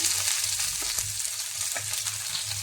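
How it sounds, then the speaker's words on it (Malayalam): Chopped okra fries in hot oil in a pan for a Kerala pachadi, a bright, steady sizzle with a faint low hum beneath and occasional soft stirring knocks. "എണ്ണ ചൂടായി അതിലേക്ക് നമുക്ക് വെണ്ടയ്ക്ക ഇട്ട് വഴറ്റി ഫ്രൈ ആക്കി എടുക്കാം"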